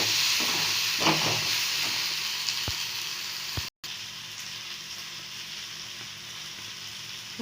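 Tomatoes sauté in a hot pan with a steady, close frying sizzle and hiss that runs the whole time, a few soft stirring knocks partway through and a brief dropout near the middle, with no one talking.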